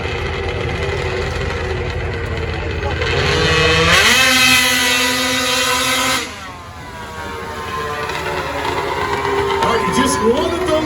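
A big-cube monster truck engine revs loudly at a show-and-shine truck pull, rising to a roaring peak and then dropping back to a rough, heavy idle amid crowd noise.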